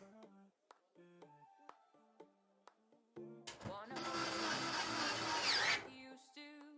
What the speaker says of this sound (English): We're using the WoW stick now.